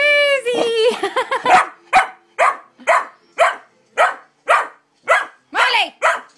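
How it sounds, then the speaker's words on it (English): An excited dog barks over ice cubes in a rapid series of sharp, close barks, starting with whines and yips and then settling into a steady, evenly spaced rhythm. "Ice cubes make Molly go crazy."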